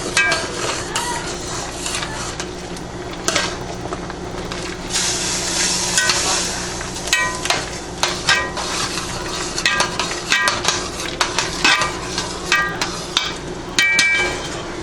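Eggplant and codfish stew stirred in a pot, with steady scraping and clinking of a utensil against the pot over a soft sizzle, in an irregular close rhythm throughout.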